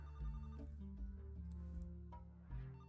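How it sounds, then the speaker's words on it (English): A phone rings inside a mystery-solving video game, its repeating electronic ringtone tones sounding steadily under a bed of game music, with no speech. "My phone's ringing?"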